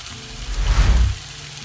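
Goat brain frying in a pan with oil, a steady crackling sizzle that swells in the middle and then eases off, heard alone with no talk.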